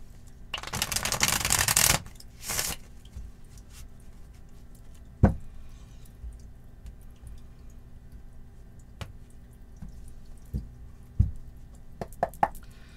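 Tarot cards shuffled by hand, a dense riffling burst near the start followed by sparse soft taps and knocks of cards being handled in a quiet room.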